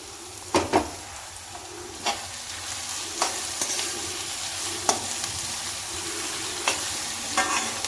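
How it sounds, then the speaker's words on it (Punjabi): Onions browning with a pinch of salt in a home kitchen pan give a constant close sizzle, broken by several sharp spatula knocks and scrapes against the metal, with no voices. "ਥੋੜਾ ਜਿਹਾ ਨਮਕ ਜਿਹਦੇ ਨਾਲ ਸਾਡੇ ਪਿਆਜ਼ ਚੰਗੀ ਤਰ੍ਹਾਂ ਭੁੱਜ ਜਾਣਗੇ"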